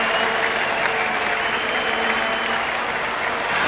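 Cricket crowd at the Gabba, Brisbane, applauding during an Australia versus Pakistan match, a dense steady wash of clapping from many hands held at an even level throughout.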